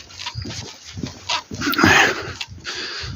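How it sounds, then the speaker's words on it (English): A dog with a small wound on its head whimpers and pants close by in short, uneven bursts of breathy whines, with no talk. "There's my dog, one of my dogs with his wounded head"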